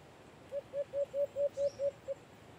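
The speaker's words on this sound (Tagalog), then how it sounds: "Sobrang gandang pakinggan nito mga kaboryon sa personal yung huni sa pugad ni Sansan." An alimokon calls from its nest, a series of about eight evenly spaced, soft hooting notes in a steady rhythm, faint and fairly distant against a quiet background.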